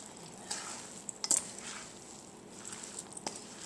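A spoon lifts and folds crabmeat dressing from the bottom of a bowl, giving soft, intermittent scraping and squelching sounds with a few light knocks, fairly quiet and close.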